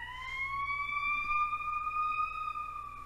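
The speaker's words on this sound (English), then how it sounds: "there's the ambulance" A single sustained siren tone, cast as an ambulance, holds steady with a slight upward drift, fairly loud and clear with no talk over it.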